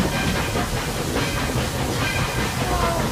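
Steady rumble and hiss of a Disneyland Railroad train rolling along the rails from Frontierland to Fantasyland, continuous and fairly loud throughout with faint clattering.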